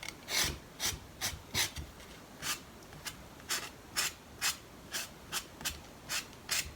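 An oil-based marker colors in a paper cactus cutout with a dozen or so quick, scratchy strokes in an uneven rhythm, each a short rasp against the paper, heard close and fairly quiet with no talking.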